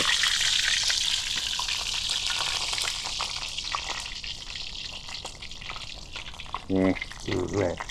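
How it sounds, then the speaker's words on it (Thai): Feet fry in hot oil with a loud, steady sizzle and bubbling that eases slightly over time, close up, with brief bits of talk near the end. "อันนี้ทอดนานสักพักแล้วนะครับ"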